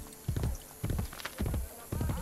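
Horse hooves clip-clopping in Assassin's Creed Brotherhood, a close, loud rhythmic beat in four quick clusters of hoof strikes, with no talking.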